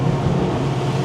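A Sterk 31 motorboat cruising at 30 knots with both engines at 3,600 rpm, giving a steady deep drone under wind and water rush, loud and constant with no talk.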